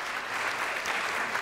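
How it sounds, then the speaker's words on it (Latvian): Audience applause for bronze-nomination laureates at a sustainability index awards ceremony, a brief, even wash of crowd clapping at moderate level with no pause. "Vēlreiz ar aplausiem sveicam bronzas nominācijas laureātus."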